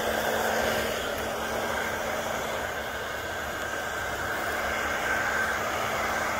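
A heat gun blows with a steady, even whoosh and hum while heating the covering on a large R/C electric ducted fan T-38 Talon jet model, running continuously at close range with no talk.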